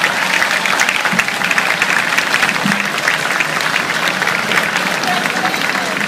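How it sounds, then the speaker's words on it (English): A crowd claps loudly and continuously for a newly engaged couple just after a marriage proposal, a dense steady patter of many hands with a low background rumble mixed in. "Please give them one more time a huge round of applause."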